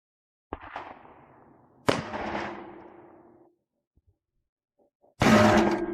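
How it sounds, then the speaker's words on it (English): .357 Magnum rounds are fired at a Chinese ballistic plate: three loud, sharp reports spaced over several seconds, each trailing off in a rumbling echo, with no talking. "let's try with the 357 and see if it can withstand the 357 Magnum"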